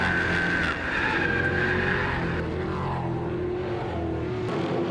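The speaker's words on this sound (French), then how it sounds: "Oh, voiture en dérapage! Bergeron, je crois, dans la courbe 4" Race car skidding through turn 4 at a drag racing and motorsport event, a continuous loud engine roar with tire screech sweeping across the bend for several seconds, no talk.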